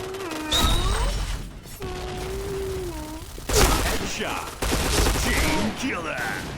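Video game gunfire with the P90 submachine gun in rapid bursts, crisp and loud, alternating with short pauses while a player talks over the shooting.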